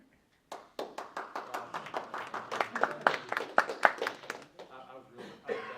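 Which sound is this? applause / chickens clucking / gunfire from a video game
applause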